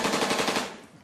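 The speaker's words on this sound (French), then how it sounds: "C'est quoi cette mitraillette? C'est rien, c'est mon SMS." A phone's SMS ringtone styled like machine-gun fire rattles off in a rapid, loud burst of repeated shots, fading out near the end of a one-second clip.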